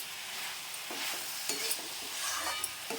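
Mixed vegetables sauté with spices in a hot pan, giving a continuous close sizzle broken by scraping stirs and small spatters at an even, busy pace.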